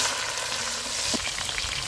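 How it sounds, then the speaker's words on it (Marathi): Tomato dropped into hot oil for a Maharashtrian bhogi vegetable dish, a dense, steady crackling sizzle close up, with no voices. "तेलातच टॅमॅटो टाकायचा."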